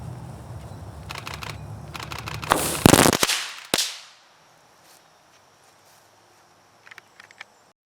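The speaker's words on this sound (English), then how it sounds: "First shot we're going to do is the ever popular crackling ball" A crackling ball firework fizzes and sputters in a dense burst of sharp crackles that swell, then cut off abruptly, followed by near silence with a few faint late pops.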